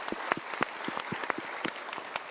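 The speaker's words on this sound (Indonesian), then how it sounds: "Sekali lagi kita berikan tepuk tangan." Applause from a studio audience on a motivational talk show, a modest group clapping with loose, distinct claps in a steady patter, fairly close and not loud.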